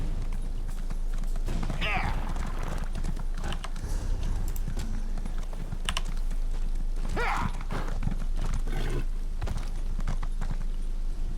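A horse gallops in Elder Scrolls Online, its hooves clip-clopping in a quick, steady rhythm with occasional whinnies, close and continuous under a talking voice.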